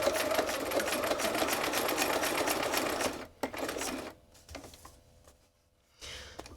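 A sewing machine stitches a monoprinted bookmark in a fast, steady rattling run for about three seconds, then stops and gives a few short bursts and clicks before falling quiet.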